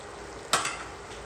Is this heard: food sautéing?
yes